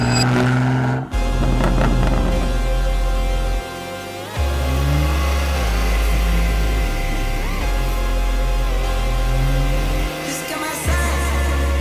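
A 700-horsepower BMW G80 M3 Competition engine revs hard in repeated loud bursts, deep low roar rising and dropping with brief pauses between throttle blips, close and alone.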